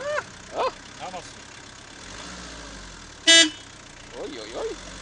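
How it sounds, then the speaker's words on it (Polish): A car horn gives one short, sharp toot in the middle of the stretch, loud and close, surrounded by children's voices and chatter before and after. "Naciśnij klakson."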